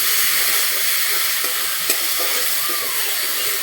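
Spices frying in hot oil for Bengali chicken kosha, a steady close sizzle with faint stirring scrapes and no talking.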